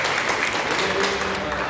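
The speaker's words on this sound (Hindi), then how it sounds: "थोड़ा उनको भी तालियां मारिए" Audience applause during a speech event in Raichur, India: a steady, dense wash of clapping from a crowd that keeps going at an even level throughout.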